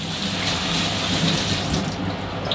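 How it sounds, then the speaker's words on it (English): Celery rinsed under a running kitchen tap, a steady close rush of water splashing into the sink that holds for a few seconds with no talk. "So we're gonna rinse the celery off."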